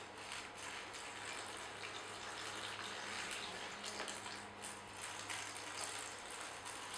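Water trickles and splashes steadily over a wetland model to simulate rain, a faint continuous patter heard close up with no talking.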